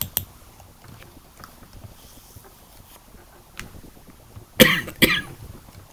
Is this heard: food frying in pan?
no